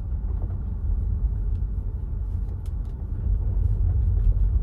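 A Tesla electric car climbs a snowy uphill slope, giving a steady low rumble of tyres and road noise that swells slightly toward the end, with faint light ticks above and no talking.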